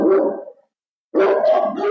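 A police dog barks loudly and close during an arrest after an alleged home invasion, giving one rough bark, a short pause and then a burst of two or three snarling barks.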